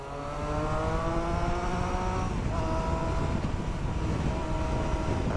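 A motorcycle with a stock, quiet original exhaust rides past, its steady engine drone holding for several seconds at moderate loudness with a shifting pitch as it passes, and no voices.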